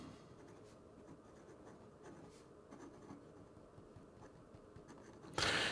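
Benu Euphoria fountain pen writing in reverse on paper, faint light scratchy strokes close up in quiet, ending with a brief louder rustle.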